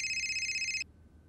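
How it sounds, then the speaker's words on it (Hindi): A telephone rings with a steady electronic trill, clear but moderate in level, and cuts off abruptly after under a second, leaving a quiet room. "फोन आ रहा है।"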